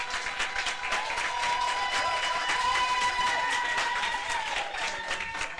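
Church congregation cheering and applauding during a sermon, steady dense clapping with shouts running throughout at close range.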